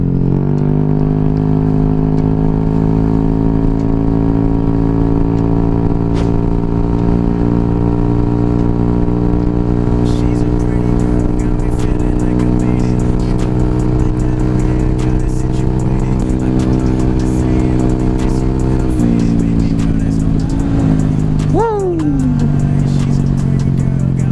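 A modified Yamaha NMAX scooter engine runs steadily close by during a test ride, a continuous droning hum held for most of the stretch, then easing and briefly revving up near the end, with no talk.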